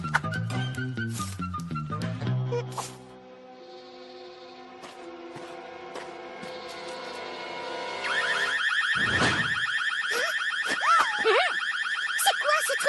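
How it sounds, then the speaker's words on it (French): An alarm system goes off in a cartoon scene with rapid electronic warbling tones and whistles that shift pattern midway, then a sharper, louder alarm pitch takes over and keeps sounding. "Qui a déclenché le système d'alarme?"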